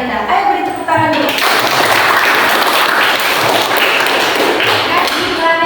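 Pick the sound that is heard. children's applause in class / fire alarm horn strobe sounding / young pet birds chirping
children's applause in class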